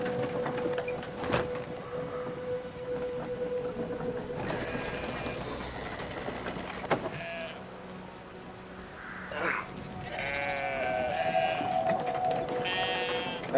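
Sheep bleat in the video game Brothers: A Tale of Two Sons, wavering calls rising near the end over game ambience and mechanical clicks, with a few quieter bleats earlier.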